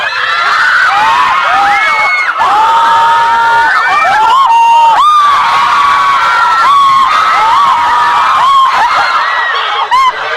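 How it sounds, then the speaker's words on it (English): A crowd of girls screams and cheers loudly and continuously, with shrill overlapping shrieks and whoops sustained throughout, played back as a recorded clip. "So you have to tell our listeners why these girls are screaming."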